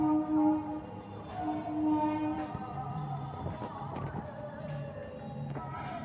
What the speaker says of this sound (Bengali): ওই যে ট্রেনের মাথা দেখতে পাচ্ছ তোমরা, একদম স্লোলি যাচ্ছে।